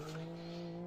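Brief steady engine drone of a quiet smart-type car driven in the Live for Speed racing game, a constant low hum with harmonic tones throughout and no talk.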